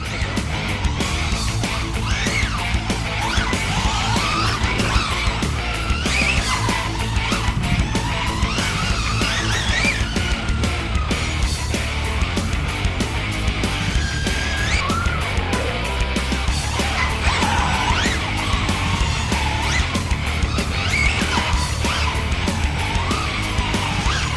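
A Quantum Flux R 4s RC truck skids at full throttle, with a continuous loud whine and gritty tire scrabbling that stays dense and unbroken, with no talk over it.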